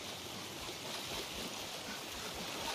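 A waterfall in the video game Gears of War 5 gives a steady, faint, broad rushing of water with no talk.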